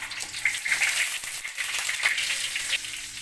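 Lamb tail fat sizzling in melted butter in a pan, a steady close frying hiss with scattered crackles and pops throughout.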